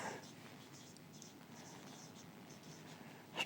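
A marker or chalk scratches across a board during a physics lecture on friction and connected bodies, soft rhythmic strokes over a quiet room, with the teacher's voice around them.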